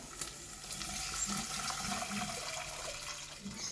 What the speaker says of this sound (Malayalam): 1 കപ്പ് റവയ്ക്ക് 1 കപ്പ് വെള്ളം എടുത്തിട്ടുണ്ട്. ഇതിലേക്ക് ഒഴിച്ച് കൊടുക്കാം.